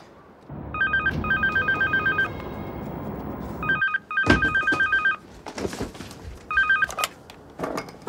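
Telephone ringing with an incoming call, sounding in several bursts of bright electronic trills separated by short gaps, with handling clatter and knocks in between and after.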